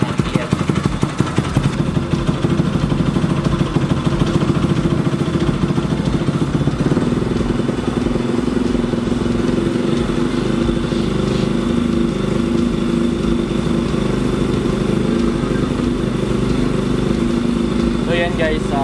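A Bajaj Rouser NS200 motorcycle engine runs steadily near the mic, revving up toward 4,000 RPM with a loud, continuous buzzing drone throughout.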